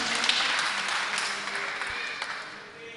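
Audience applauding in welcome at a Jain religious discourse, a dense wash of clapping that holds steady and slowly fades over three seconds.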